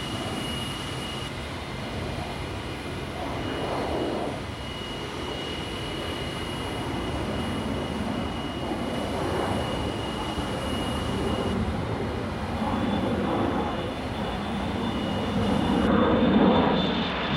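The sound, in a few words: North American XB-70 Valkyrie aircraft taking off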